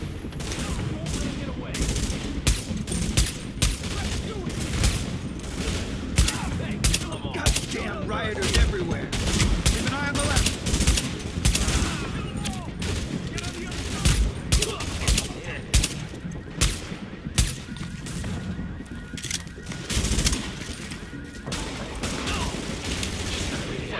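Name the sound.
gunfire in a shootout, from video game The Division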